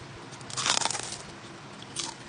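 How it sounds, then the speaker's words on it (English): Crisp bites into fried lumpia shanghai made with malunggay give a close, crackling crunch, a burst of several crunches followed by a quieter second crunch, with no talking over it. "Hear that? It's so crunchy."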